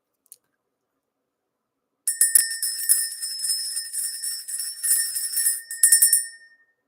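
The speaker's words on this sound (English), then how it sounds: "Let's ring the bell." A small hand bell rung to clear energy gives a bright, sustained metallic ringing. Repeated shaking strokes carry on for about four seconds after a short silence, then fade out.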